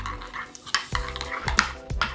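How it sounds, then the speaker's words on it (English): A spoon stirs a vegan burger sauce with white wine vinegar in a bowl, giving about four quick scraping strokes with sharp clinks against the bowl, close and alone. "And we simply mix this together."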